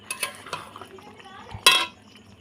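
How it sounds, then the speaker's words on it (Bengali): Chicken curry cooked with little oil being scraped and poured from a pan into a bowl: soft stirring and scraping taps of a utensil on metal, then one louder clattering clink near the end. "মাংসটা ঢেলে নেবো একটা বাটিতে, আমি ঢেলে দেখাচ্ছি।"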